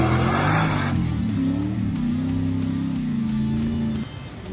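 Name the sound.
Nissan Patrol with LS3 V8 engine running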